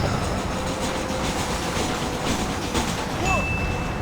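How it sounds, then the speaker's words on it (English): A train rolls past on the tracks in the video game Red Dead Redemption, a loud, continuous rumble with clattering wheels, close and steady, with a brief high squeal near the end. "Place a hog-tied woman on the train tracks and witness her death by train."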